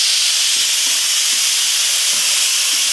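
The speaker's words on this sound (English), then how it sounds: "So it might take a minute or two for this steam to stop" An Instant Pot vents steam as it depressurizes, a loud, steady, close hiss that holds unbroken throughout with faint low bumps underneath.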